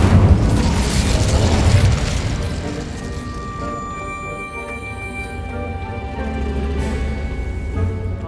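A fire spell cast in the Hogwarts Legacy video game bursts out loud as a booming blast, followed by a sustained rumbling roar with ringing tonal layers that fade over several seconds.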